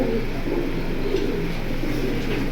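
Pigeons in a new collection coo softly in a low, steady murmur, several birds overlapping continuously at close range with no talk.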